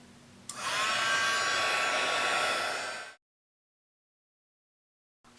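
A heat tool warming embossing powder on a card blows with a steady, loud hairdryer-like whoosh for about two and a half seconds, then cuts off abruptly into silence.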